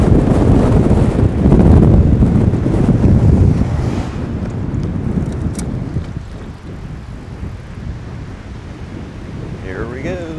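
Strong, steady wind buffeting a microphone on a bicycle riding into a headwind on a road in East Clark, loud rumbling gusts that ease slightly after the first few seconds, with no talk.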